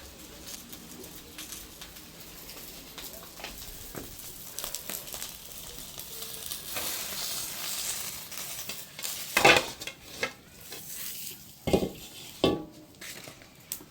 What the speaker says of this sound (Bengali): আমার মাছ ভাজা হয়ে গেছে, সুন্দর হয়ে গেছে।